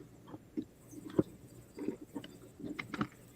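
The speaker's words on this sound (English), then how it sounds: "That's just what you're hearing is me holding onto the phone" Phone gripped and shifted in the hand, giving soft scattered handling rubs and small knocks at close range, with a few sharper taps near the middle and end.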